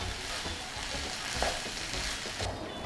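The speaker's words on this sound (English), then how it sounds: "just giving this a stir" Chinese fried rice coated in soy sauce mixture being stirred in a hot pan, with a steady sizzle and soft scraping of the spatula through the rice, close and continuous.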